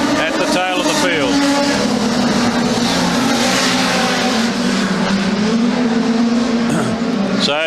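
Production sedan race cars roar around a race track, their engines droning loud and continuous under a commentator's voice as they come out of turn four onto the front straight.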